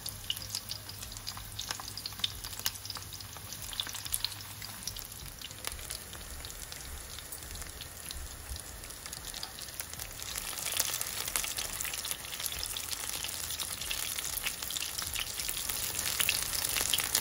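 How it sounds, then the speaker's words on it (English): Veg tikki patties frying in hot oil, a steady crackling sizzle that grows slightly louder and denser toward the end, heard up close with no talk. "just cooking this for a few seconds in hot oil"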